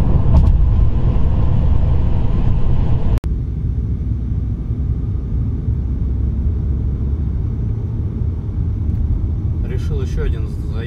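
A 2.0 TFSI Audi A6 C7 driven at full throttle in traffic, heard from inside the cabin as a loud, steady engine and road rumble, with a sharp click partway through and brief talking near the end.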